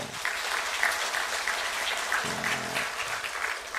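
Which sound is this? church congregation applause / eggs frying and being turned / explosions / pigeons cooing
church congregation applause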